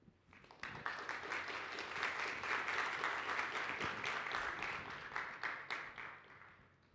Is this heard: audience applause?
yes